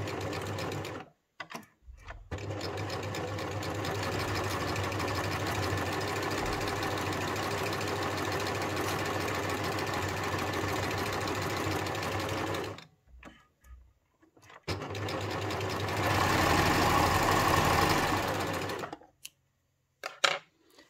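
A sewing machine stitches a Japanese hem at a medium stitch length, running steadily and close for about ten seconds, pausing, then making a second, louder burst before stopping.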